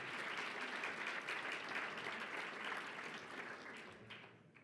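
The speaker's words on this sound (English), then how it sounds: "A round of applause, please." Steady applause from a conference audience welcoming Michelle Bachelet, former President of Chile, at a women's safe-surgery event, sustained even clapping that slowly fades toward the end, heard fairly distant.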